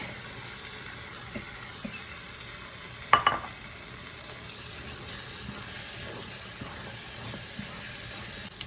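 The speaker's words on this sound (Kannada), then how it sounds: "ಇವಾಗ ನಾವು ರಾಜ್ಮಾ ಹಾಕ್ಕೊಳ್ಳುವ. ಇದಕ್ಕೆ ರಾಜ್ಮಾ ಹಾಕ್ಕೊಳ್ತಾ ಇದ್ದೇನೆ." Rajma kidney beans tipped into a pan of frying masala give a steady close sizzle, with a brief clatter of beans or spoon against the pan partway through and no talking.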